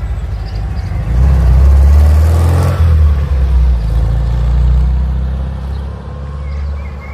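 Classic Porsche cars rumble past at the Franken Classic 2023 vintage car rally, a loud, close engine roar swelling and fading as vehicles go by, with deep low-end throb and no talking.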